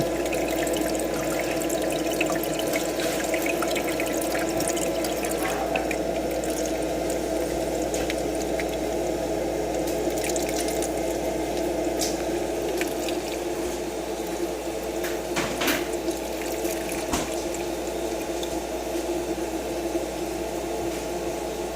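Steady watery churning and trickling inside a Dometic HZB-12SA portable ice maker, a continuous low mechanical hum underneath with occasional small splashes and clicks, close by and constant throughout.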